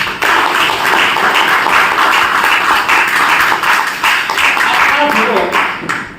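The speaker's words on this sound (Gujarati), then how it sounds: "જોરદાર તાળી એમના માટે" Applause breaks out for Vijay Nayak at a business meeting, a dense burst of clapping from a gathered audience lasting several seconds and tapering toward the end, with a voice briefly heard.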